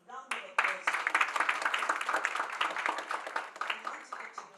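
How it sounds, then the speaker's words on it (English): An audience at an International Women's Day celebration breaks into a round of applause after a short pause, dense clapping rising quickly and continuing steadily before slowly thinning out. "Round of applause for her."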